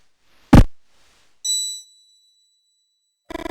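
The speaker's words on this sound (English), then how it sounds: "Suddenly the bell rings and you feel an invisible force try to drag you into the present." In the video game Mothmen 1966, a sharp knock-like hit is followed by a single clear bell ding that rings out and fades, then a brief clatter at the end, all crisp and isolated against silence.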